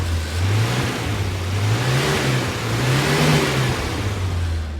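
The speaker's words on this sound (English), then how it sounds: "shut that so you guys can hear the motor a little bit" A 1979 Dodge Colt engine in original condition runs steadily at close range with a low, even hum, revving up and down gently partway through. No one speaks.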